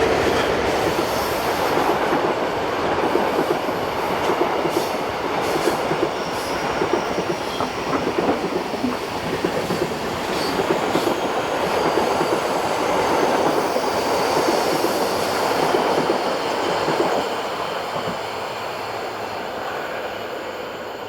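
A Swiss passenger train from Zurich to Biasca passes on the Gotthard north ramp, hauled by two electric locomotives, with a steady loud rumble, wheel clatter and faint squeals sustained over twenty seconds.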